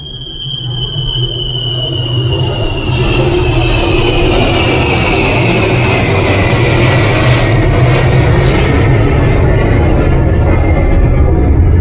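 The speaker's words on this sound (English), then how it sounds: "at time to time you get disturbed by the planes flying over" A plane flies over Bangalore, India: a loud, steady roar with a whining tone that slowly falls in pitch and builds over several seconds, with no talking.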